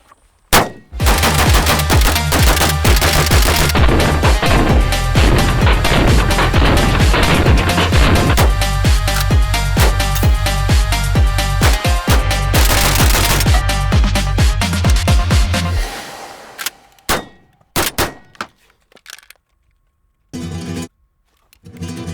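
A suppressed Beretta 1301 shotgun fired repeatedly into dirt, a rapid string of loud heavy reports packed closely together for about fifteen seconds, then a few isolated shots and clatter before silence.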